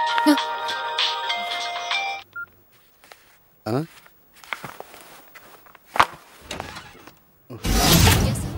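A phone ringtone plays a tonal melody for about two seconds, then gives way to scattered knocks, footsteps and voices talking.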